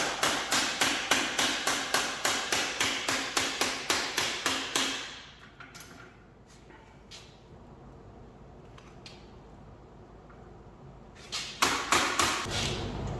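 Rapid rhythmic hammer blows shape sheet metal into a cooling plenum for a Balmar alternator, a fast even string of sharp metallic strikes, then a quiet pause with faint handling, then another short burst of hits.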